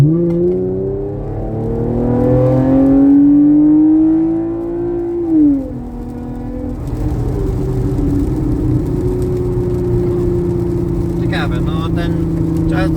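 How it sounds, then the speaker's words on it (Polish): A Chevrolet Camaro accelerates hard in auto mode at night. The engine note climbs steadily in pitch, drops sharply at a gear change, then settles into a strong, even drone up close. "Ostatnie przyspieszenie, tym razem już w trybie auto."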